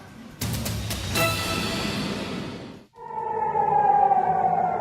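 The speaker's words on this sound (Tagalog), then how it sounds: "Nabalot ng tunog ng sirena ang Tel Aviv sa Israel, hudyat na inaatake ang bansa." A loud wailing air raid siren blares steadily over Tel Aviv, Israel, during an attack, drops out briefly, then resumes with a rising, sustained tone.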